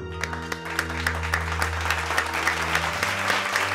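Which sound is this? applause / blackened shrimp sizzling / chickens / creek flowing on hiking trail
applause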